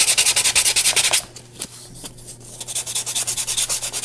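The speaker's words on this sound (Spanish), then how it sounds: "le pasamos lija." Sandpaper rubs against a craft doll base in quick, even back-and-forth strokes, loud and close, pausing briefly before the rhythmic scrubbing starts again.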